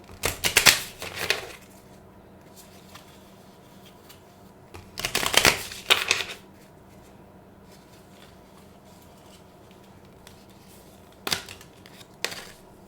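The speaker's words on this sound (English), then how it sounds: "Let's try shuffling." Cards are shuffled in quick riffling bursts, with three or four separate shuffles and quiet gaps between them.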